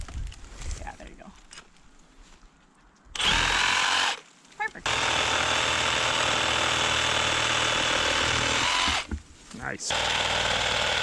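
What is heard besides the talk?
Sawzall reciprocating saw cutting up fallen tree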